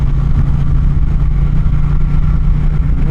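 Steady, loud engine drone from an Indian Challenger motorcycle under mid-throttle while riding, a deep, continuous rumble with a constant low hum and no sharp rises.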